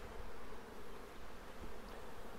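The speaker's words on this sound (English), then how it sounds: "giving it a sharp shake in to get most of the bees off" A thick, steady buzzing of many honey bees fills the air close by as they are shaken off brood frames into a nucleus colony, continuous and even with no speech.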